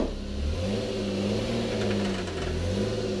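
A car engine revs on a dyno, a loud steady mid-pitched drone whose tone rises and falls slightly as the throttle is held, close up with no talking.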